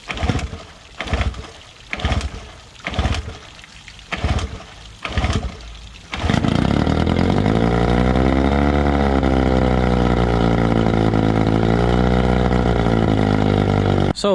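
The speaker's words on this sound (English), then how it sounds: "So now we have a Evinrude 15 2-stroke." An Evinrude 15 two-stroke outboard engine gives a few short sputtering bursts, then catches and runs steadily at a constant idle, loud and close.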